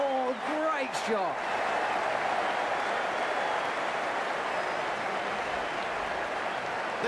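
Broad, steady crowd applause fills a stadium in a cricket video game, a loud wash of clapping and cheering continuing for several seconds after a brief opening voice.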